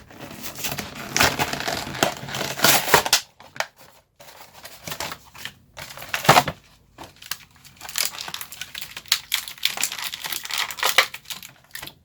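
Close plastic packaging crinkles and crunches as a toy action figure is unboxed, with bursts of crackling and tearing broken by short quiet gaps and a few sharp snaps, no talking.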